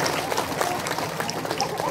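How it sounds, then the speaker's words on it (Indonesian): Audience applause at an Islamic religious lecture, a brief continuous patter of many hands clapping at moderate level, with a crowd murmur mixed in. "Tepuk tangan dulu dong."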